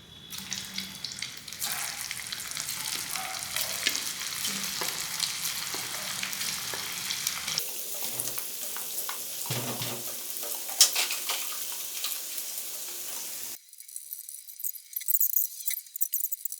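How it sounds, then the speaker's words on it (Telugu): Loud, steady sizzle of chicken corn balls deep frying in hot oil, with occasional stirring clinks; the bubbling drops off and returns in later stretches. "ఇప్పుడు వీటిని మనం ఈ ఆయిల్లో డీప్ ఫ్రై చేసుకుందాం."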